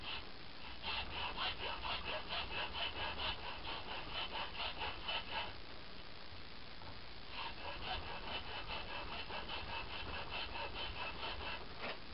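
Repeated rasping strokes cut notches into a brake shoe, a steady back-and-forth scraping rhythm, fairly faint and muffled, with a short pause in the middle before the passes resume.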